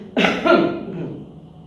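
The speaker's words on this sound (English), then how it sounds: "That's a little cough, that's not corona." A single short cough, close and fairly loud, fading quickly into quiet room noise.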